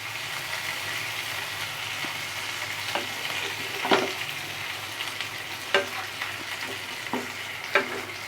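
Pomfret fish frying in masala over low heat, a steady close sizzle and crackle with a few sharper pops and spatters scattered throughout, no voices.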